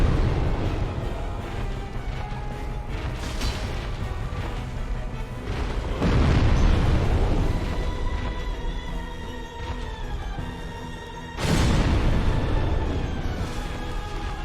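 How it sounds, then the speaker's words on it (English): Booming explosion attacks from a boss in Dark Souls go off repeatedly, heavy and loud, with big blasts around six and eleven seconds rising over continuous game noise and music. "Usually he just spams his explosion attacks over and over again."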